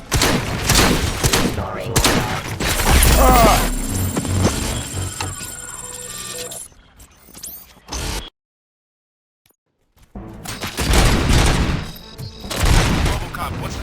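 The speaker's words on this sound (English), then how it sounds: "Gunshots? What's going on?" Dense gunfire and bursts of shots in the RoboCop Rogue City video game, loud and continuous under game music and effects. A brief line of talk is heard, then near-silence, and the shooting starts again.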